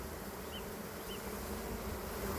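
A steady, dense buzzing of a honey bee swarm fills the whole stretch, a constant hum that stays even and close.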